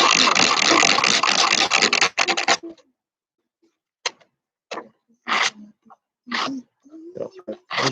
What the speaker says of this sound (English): Sand this one a little bit down.